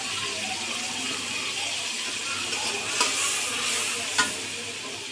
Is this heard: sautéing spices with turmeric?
yes